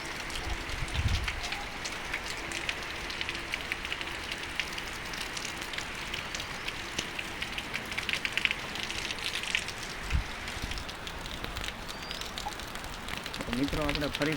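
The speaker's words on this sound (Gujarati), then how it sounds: "આ તો અમારા જાગતા ગામનો વરસાદ હતો આજનો" Steady broadband rain hiss falls over a village in Moti Jagdhar, Gujarat, with a few soft low thumps and occasional drips, continuous and fairly close throughout.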